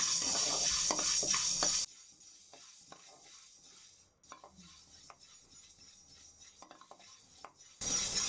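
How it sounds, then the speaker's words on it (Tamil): Green gram is dry roasted in a pan, with a light rattle of grains and utensil scrapes and taps over a quiet background. Louder hissing noise appears at the start and the end, and no one speaks. "இப்போ இதோ வறுத்துட்டு எடுத்துடலாம்"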